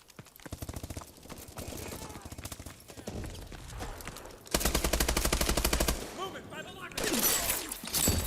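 Rapid automatic gunfire from a Call of Duty match, with sustained bursts of weapon fire and loud stretches of continuous shooting, heard close and dense throughout with game effects between bursts.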